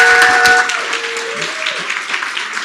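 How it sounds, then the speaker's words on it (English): Audience at a teachers' professional learning session applauding the panelists, a steady wash of clapping under a speaking voice that trails off into continued applause. "Let's give them a round of applause."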